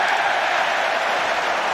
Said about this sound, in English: And a big round of applause and cheer for the defending.